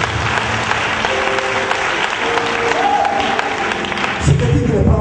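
Sustained applause from a church congregation at a night vigil during an evangelical gathering, a dense continuous wash of clapping with voices mixed in and some tonal sounds underneath.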